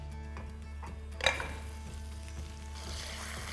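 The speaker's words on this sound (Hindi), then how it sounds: "भुनाई चालू रहनी चाहिए" Onions and mutton are bhuna-fried in a pan, giving a faint, steady sizzle with soft stirring scrapes and one sharp metallic clink of a utensil against the pan.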